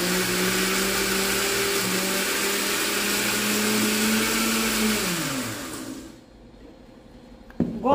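Three eggs whirring in a kitchen blender for a brief batch of a canned-corn cake batter, a loud steady motor drone that winds down and stops near the end, followed by quiet and a small clunk.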